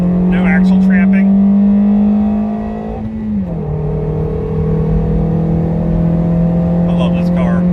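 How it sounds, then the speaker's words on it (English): A Toyota Yaris fitted with a limited-slip differential makes a drag launch, its engine droning in a loud steady pitch that dips with a shift and climbs again, heard from inside the car with no talk. "We'll do a drag launch. Hooks and goes, no axle tramping."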